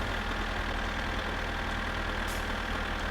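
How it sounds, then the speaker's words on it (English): A tractor engine runs steadily in My Summer Car, giving a constant loud mechanical drone with a low knocking rumble and no pauses. "We're in a loud moment right with the tractor"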